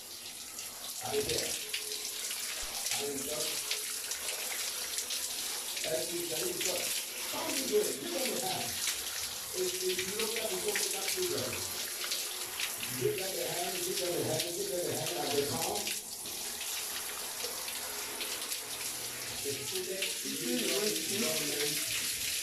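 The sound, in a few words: tap water running while rinsing hair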